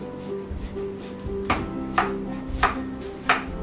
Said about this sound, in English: I just start making slices down, and now cut it in the other direction.